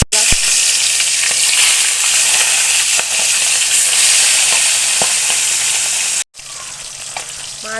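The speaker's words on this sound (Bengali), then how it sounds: "মাছ ভাজা হয়ে গেল।" Pabda fish fry in hot oil in a kadai with a loud, steady broadband sizzle and occasional spatter pops, briefly cut off near the end and then resuming.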